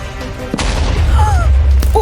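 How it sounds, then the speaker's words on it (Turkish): A deep booming bomb explosion in Minecraft, heavy low rumble that rolls on for a couple of seconds after a sharp hit. "Bomba patladı dostlarım."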